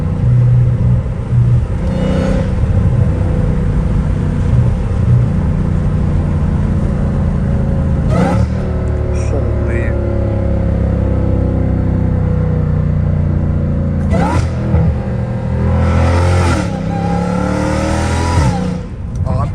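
A catless Dodge Hellcat Redeye accelerates hard, its engine roaring loud and close with several rising revs and gear-change breaks across a sustained run.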